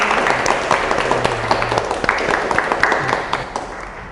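Studio audience applauding during an Indonesian Q&A show about Lebaran and forgiveness, a dense steady patter of hand claps lasting throughout, fairly close, with some faint talk mixed in.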